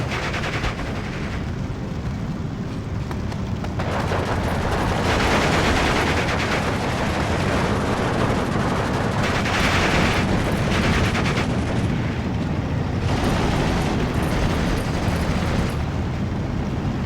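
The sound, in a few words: tank gunfire in the video game Steel Division 2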